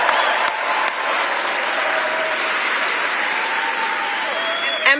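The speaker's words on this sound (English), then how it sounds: "And now you got your paid crowd out there clapping for you." A crowd at a political speech claps steadily, a broad, even patter of applause lasting several seconds, with a voice talking over it.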